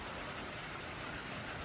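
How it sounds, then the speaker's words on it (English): Steady rain falling in Tasmania, a continuous even hiss of drops on a surface, close and uniform with no voices. "it hasn't stopped raining since 4:30"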